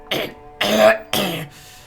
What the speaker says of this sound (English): You hear a man clearing his throat briskly.